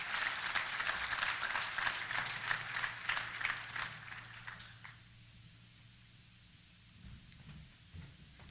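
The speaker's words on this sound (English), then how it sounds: "let's give a round of applause for our panel" An audience at an energy summit panel session claps, a dense burst of applause for about four seconds that then thins out to scattered claps and room noise.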